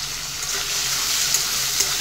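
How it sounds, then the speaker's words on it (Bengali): Shrimp fry in a pan with chopped taro stolons, giving a steady close sizzle with faint stirring clicks. "চিংড়ি মাছটা দিয়েও আরও কিছুটা ভেজে নিয়ে"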